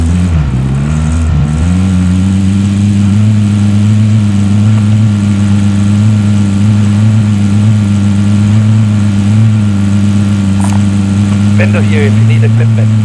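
A car engine in Call of Duty: Warzone drones steadily and loud throughout while driving, with a brief rev change near the start and scattered game effects later.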